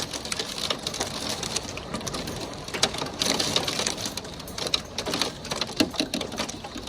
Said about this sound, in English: On the 6th of June, we had an intense rainstorm.